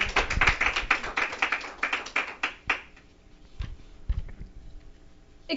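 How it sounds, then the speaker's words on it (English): Applause from a small audience after a performer is introduced, a burst of sparse, close hand claps that thins out into scattered individual claps. "Let's give a round of applause for Miss Venetia Spencer."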